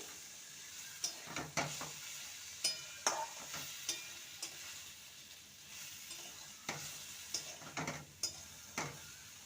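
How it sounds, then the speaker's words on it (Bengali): Papaya and chana dal vegetables sauté with spices in a pan, a steady sizzle under repeated scraping stirs of a spatula at close range, no speech. "মশলার সাথে সবজিকে ভালো মতন কষিয়ে নিয়েছি"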